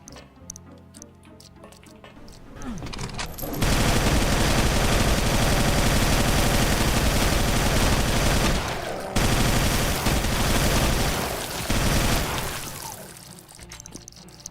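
Sustained rapid gunfire in the factory-building game Factorio, a dense continuous burst that runs loud for several seconds, briefly cuts out, then resumes before tapering off, with no talking.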